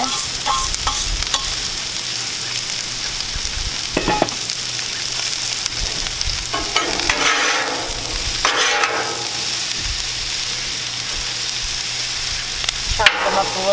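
Onions and cheesesteak meat fry on a camp stove griddle, sizzling steadily and up close while a spatula scrapes and stirs now and then across the hot surface.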